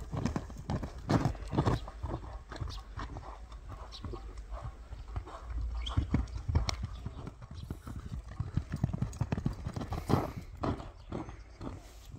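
A horse clip-clops at a run, its hoofbeats steady and close throughout, with a brief whinny and faint background sounds in between.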